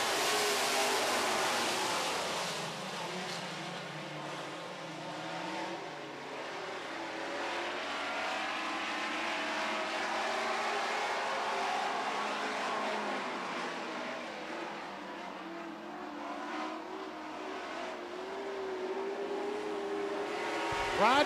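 Super stock race cars roaring around a track during a heat race, a steady, dense engine drone with rising and falling revs from the pack, heard from a distance with no talk.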